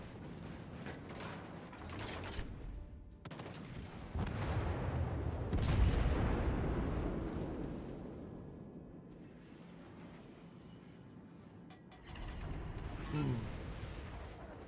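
Naval guns fire in the World of Warships Legends video game, in deep rumbling booms that swell and fade over a low, distant-sounding battle backdrop, with one stronger burst near the middle and another near the end.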